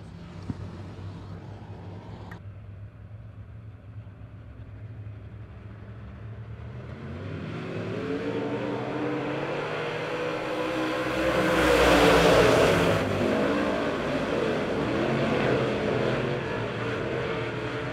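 Race cars on the track at Monett Motor Speedway during a heat race, a steady engine roar that swells as the cars pass close by, then holds loud and sustained.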